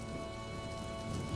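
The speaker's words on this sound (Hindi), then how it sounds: "फिर हफ्ते भर लगातार भारी बारिश" Heavy, steady rain pours down over a village in an animated story, a dense continuous hiss of drops striking surfaces that holds an even loudness throughout, with no voices.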